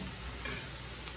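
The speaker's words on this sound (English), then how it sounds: "I want to brown my meat good, get my vegetables all cooked good and everything" Meat and vegetables browning for sloppy joes in a skillet, giving a steady, close, even sizzle with no talking.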